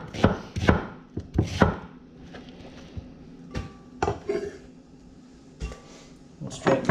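One brown and one small red onion are chopped on a board, giving a series of sharp, close knife knocks in uneven clusters, with quiet clattering of kitchenware between the cuts.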